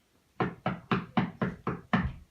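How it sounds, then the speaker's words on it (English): Six firm knocks land on a door in an even, steady rhythm, close and clear with a short gap between each, staged in an eighth-grade play of "The Tell-Tale Heart". "there was a knock at the door."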